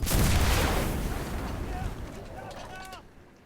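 A single heavy anti-tank rifle shot booms out against an M4A1 76W Sherman tank in a video game, loud at first and then decaying into a long rumbling tail, with faint metallic chirps near the end.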